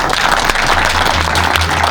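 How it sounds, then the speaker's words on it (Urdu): Studio audience applauding in honour of Major Aziz Bhatti during a Defence Day quiz show, a dense steady wash of clapping that holds at the same loudness for about two seconds, with a low hum underneath. "ایک مرتبہ تالیاں ہونی چاہیے میجر عزیز بھٹی صاحب کے لیے"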